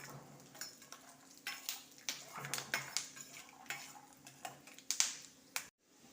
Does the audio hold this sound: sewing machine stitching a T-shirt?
no